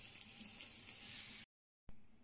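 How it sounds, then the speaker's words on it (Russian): Onions sauté gently in a pot with a steady, quiet sizzle and hiss, broken by a brief silent gap before the soft frying resumes. "Здесь у меня подвяливается немножко лук."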